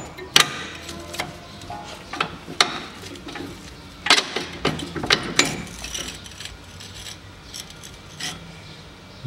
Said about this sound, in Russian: Надо открутить только вверху два болта и снять стойку.